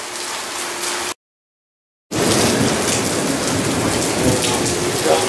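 Steady heavy rain pours down during a thunderstorm after a lightning strike, loud and close, with a short dead gap near the start before the dense downpour resumes alone.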